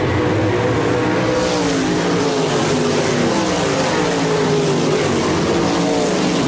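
RaceSaver sprint cars roar together as they accelerate off the green-flag start at Park Jefferson Speedway. A dense, loud, continuous wall of engine noise rises and swells as the pack pulls away.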